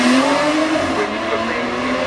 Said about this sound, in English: This is the Aston Martin Vanquish Zagato shooting brake.